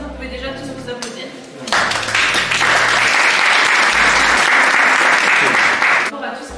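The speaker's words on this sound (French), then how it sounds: "Rien que pour ça, vous pouvez déjà tous vous applaudir." A live audience at a talk in Charleroi breaks into loud, sustained clapping after someone speaks, the applause rising quickly, holding steady for several seconds, then cutting off.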